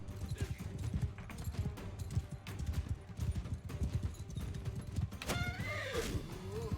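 Horse in the medieval combat game Bannerlord neighing loudly near the end after steady clip-clop hoofbeats of a gallop, all under battle noise and a talking voice.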